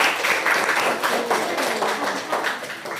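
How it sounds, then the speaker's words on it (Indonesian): A group of people clapping steadily throughout in applause for a group presentation during a teacher-training Akidah Akhlak class at an Islamic university, dense and sustained with no talk over it. "Tepuk tangan untuk kelompok A."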